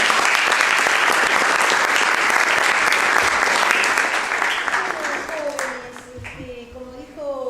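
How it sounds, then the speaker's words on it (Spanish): A lecture audience applauds steadily in a hall to welcome a speaker, the broadband clapping fading over the final seconds as a voice begins talking over it. "y un aplauso grande para él."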